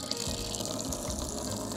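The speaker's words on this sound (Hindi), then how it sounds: "इसने अब देखिए इस तरह से पानी ऑन कर दिया है ऑटोमेटिकली।" Tap water released automatically by a garden water timer runs in a steady, continuous gushing stream, nearby and fairly loud, with no talk over it.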